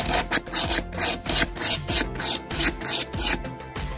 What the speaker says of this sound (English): Let's fix the drill and try to make a hole on the wood board.